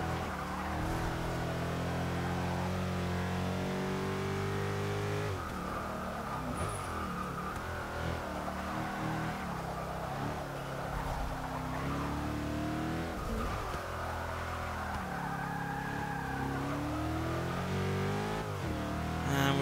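A 2013 Mercedes-Benz E 63 AMG in Forza 6 roars continuously at high revs, the engine note rising and falling through gear changes with brief tire squeals as it loses traction, loud and unbroken with no talk.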